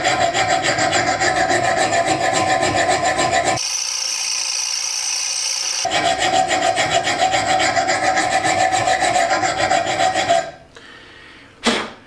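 Hand file rasping along the convex edge of an axe, steady rhythmic scraping strokes close up and loud, a brief pause midway, then more filing before it stops with one last scrape.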